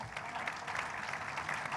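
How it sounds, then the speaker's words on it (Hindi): A studio audience applauds briefly for Shakeel, a short, fairly faint burst of clapping with a voice faintly underneath. "तो शकील के लिए तालियां होनी चाहिए।"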